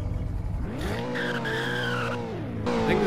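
A Chevrolet Corvette C8 in a driving video game skids with loud, sustained tire squeal over engine drone, the squeal sliding in pitch for about two seconds before the car pulls away.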